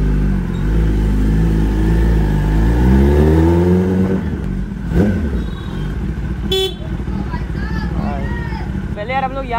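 A cold car engine idles, then revs and pulls away as the car drives off, loud and close, with a brief horn-like toot and background voices.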